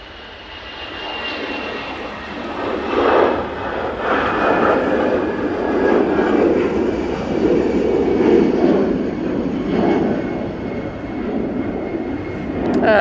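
An airliner bound for Faro takes off from Manchester Airport with a loud, sustained jet engine roar that rises early, stays strong with rolling surges, and carries on alone to the end.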